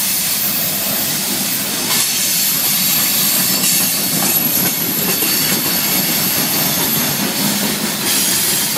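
A train rumbles through a tunnel, its continuous loud roar and hiss echoing with squealing wheels throughout, with no voices over it.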